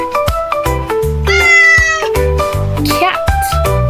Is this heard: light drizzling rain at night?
no